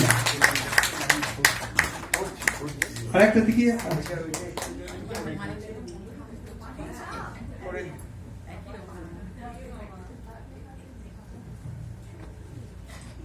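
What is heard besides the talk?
audience clapping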